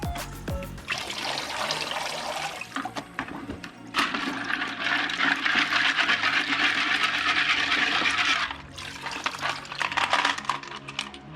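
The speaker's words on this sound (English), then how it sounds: "We're just going to rinse it off really good." Water runs and splashes as a Fluval 305 aquarium canister filter basket of Biomax media is rinsed, a steady close rushing stream with brief pauses and clinks, heard alone.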